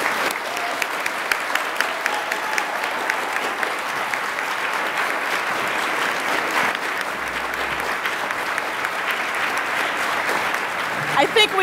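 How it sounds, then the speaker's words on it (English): Sustained, loud applause from the audience at a Martin Luther King Jr. Day writing awards ceremony for the winners and performers, steady dense clapping lasting over ten seconds. "please give all the winners and performers one more generous round of applause"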